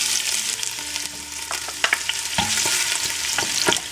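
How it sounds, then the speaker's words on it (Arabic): Onions tossed into hot oil in a pan, frying with a steady crackling sizzle and intermittent scraping and stirring clatter, close and fairly loud with no voices. "نرمي البصل تاعي"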